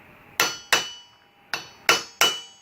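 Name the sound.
hammering a 13/16 socket onto a U-joint cap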